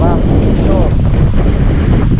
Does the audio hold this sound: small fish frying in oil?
no